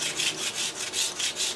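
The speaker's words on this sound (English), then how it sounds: "I'm just gonna do some sanding on it to knock off some of the rough edges" Hand sanding of a rough wooden walking stick with a sanding block: steady back-and-forth rasping strokes, about six in a regular rhythm, close and moderately loud with no talking.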